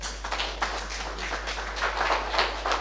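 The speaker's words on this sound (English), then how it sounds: "And please give a big round of applause." An audience at a business network meeting for an app launch claps together in a sustained round of applause, individual claps audible as a steady patter at moderate loudness.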